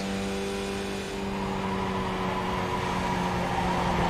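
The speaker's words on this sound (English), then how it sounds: "You can slide the car through uphill without getting off the gas" Racing video game car held at full throttle while sliding uphill through a bend at Lime Rock Park, a steady loud engine drone with a faint tire scrub, rising slightly toward the end, no talk.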